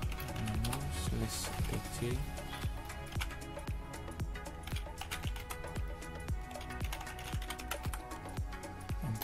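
Steady clicking of keys on a computer keyboard while commands are entered for a Debian 10 DNS server setup, a fast, even patter of close taps that runs without pause.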